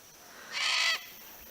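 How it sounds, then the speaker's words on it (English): A cockatoo calls once in the background on a river hike, a single harsh screech lasting about half a second, moderately distant against quiet outdoor ambience. "Cockatoo in the background there."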